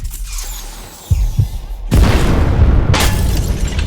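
An explosion effect in an audio drama: a few low thumps in near-silence, then a sudden heavy blast bursts into a loud, sustained rumbling roar, with a second sharp burst about a second later.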